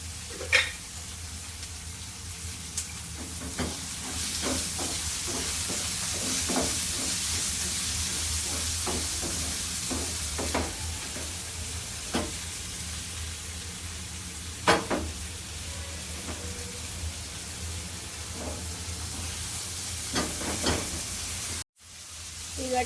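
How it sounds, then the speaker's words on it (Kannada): Okra frying in a pan with tomato and coriander leaves, a steady close hiss and sizzle with scattered ladle taps and scrapes, ending in a brief cut of silence. "ಟೊಮೆಟೊ ಮತ್ತು ಕೊತ್ತಂಬರಿ ಸೊಪ್ಪನ್ನ ಹಾಕ್ಕೊಂಡು ಫ್ರೈ ಮಾಡ್ತೀನಿ"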